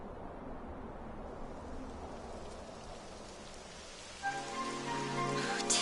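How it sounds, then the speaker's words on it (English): Rain in the video game Dragon Quest 11, a faint steady hiss of falling drops throughout, joined near the end by a brighter tonal music cue. "It would have to go and start raining, wouldn't it?"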